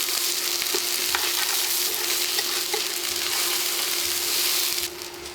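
Lentils and rice are stirred into hot oil in a pot for mujadara, giving a steady loud sizzle with light scraping and rustling from the stirring. The frying noise drops off sharply near the end.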